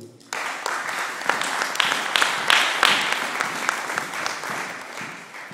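A church congregation bursts into loud, sustained applause, many hands clapping together close by before gradually easing off.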